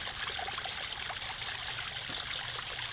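Water from an overflowing sewer in Bardstown flows and splashes steadily, a close, constant rushing trickle with no voices over it.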